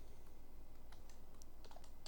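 Quick clicking keystrokes on a computer keyboard while a project name is entered in a PIC16F877A microcontroller software setup, light and close over a low steady hum.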